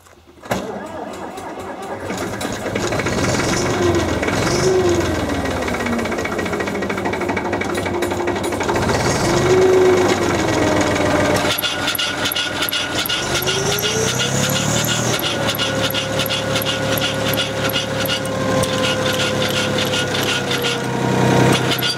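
A tractor running the motor of a hydraulic hedge trimmer, outdoors in a garden: a steady, loud mechanical engine drone with rattling, rising and falling in pitch, continuing for over twenty seconds without pause.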